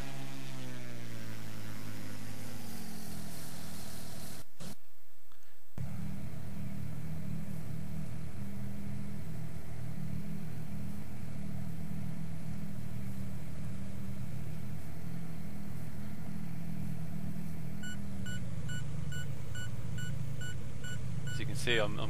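Twin piston engines of a Carenado Baron 58 in a flight simulator, a steady loud drone with a throaty low rumble, briefly cutting out before resuming, with faint beeping tones near the end.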